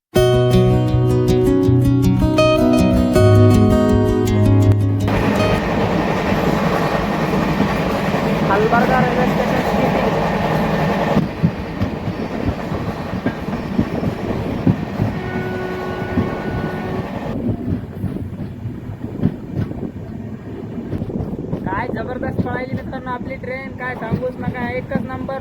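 Train 16593 KSR Bengaluru–Nanded Express running on the Bidar–Nanded line, a steady rolling rumble throughout, with music-like tones early on and voices talking over the noise.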